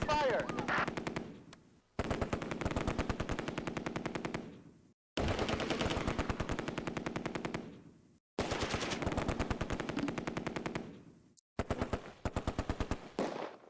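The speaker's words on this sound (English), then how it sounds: "The MG42 on the left flank opens up." An MG42 machine gun in the Close Combat wartime strategy game, firing long rapid bursts in four or five strings separated by brief pauses, loud and close.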